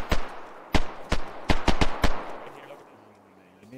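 Gunshots in the survival game DayZ: about seven sharp cracks, a single shot then a quick cluster of six, fairly close and loud, followed by fading quiet with a faint low hum at the end.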